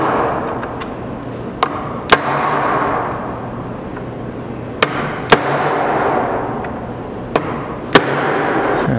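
Several sharp metallic strikes, a hammer hitting a transfer punch through a hole in mating metal plates, land at irregular intervals over a steady background hum, loud and close.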